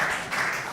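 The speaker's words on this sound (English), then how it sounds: "people have to clap." Conference audience clapping, a brief burst of steady, broad applause filling the hall at moderate loudness.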